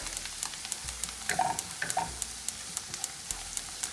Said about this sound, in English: add the chili flakes, add the thyme and the cilantro. Saute everything together in this butter